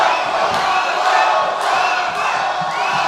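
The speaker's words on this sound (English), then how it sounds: "he's got the crowd behind him. And you hear the crowd yell" Boxing arena crowd roaring and chanting a fighter's name in rhythmic waves, a dense wall of voices sustained throughout, loud and close.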